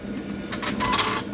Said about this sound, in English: when you press this button, the machine's gonna home up.